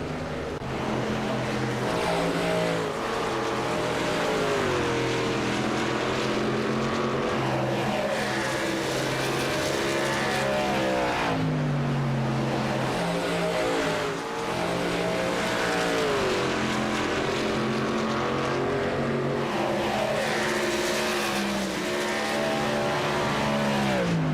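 Racing trucks at a short-track contender series race, engines roaring loud and continuous with rising and falling revs as they pass and accelerate through repeated laps.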